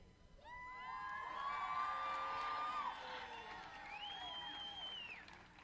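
A crowd at a cosplay contest at an Albuquerque Aki Matsuri festival cheers and whoops for the contestants, high shouts and screams rising together and holding for several seconds, heard from a distance.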